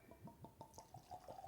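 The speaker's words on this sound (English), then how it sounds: "Oh, very nice, satisfying glug" Smokehead Rock Edition II Islay single malt whisky glugs out of a one-litre bottle in a rapid rhythmic series of about eight hollow gulps, close and fairly quiet, with no talking.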